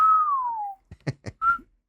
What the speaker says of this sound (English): I whistle at her